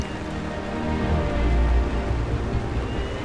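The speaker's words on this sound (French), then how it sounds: "une forte pluie s'abattait maintenant sur tout le pays" A steady, dense wash of heavy rain, continuous and fairly loud, swelling slightly midway with no voices.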